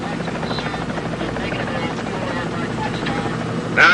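Helicopters sit on a ship's deck with their rotors running, giving a loud, continuous drone and buzz. Indistinct voices sound underneath, and a sharper burst of noise comes in at the very end.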